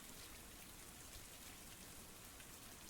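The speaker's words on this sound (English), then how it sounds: "turn that up a little bit so you guys can hear this lovely downfall." Rainfall ambience in a visual novel video game plays as a dense, steady downpour hiss with fine patter, uniform and unbroken over the whole stretch, with no speech.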